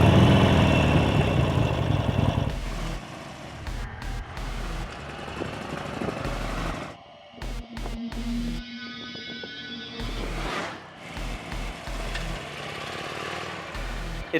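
The V-twin engine of a Harley-Davidson 1200 Custom motorcycle rumbles at moderate volume, with a heavy low throb that swells and dips through changing revs over a busy road background.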